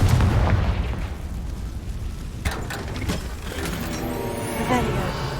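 A Confringo spell blast in Hogwarts Legacy, heard as a deep booming burst at the start followed by a few sharper pops and crackling impacts amid ongoing game sound effects.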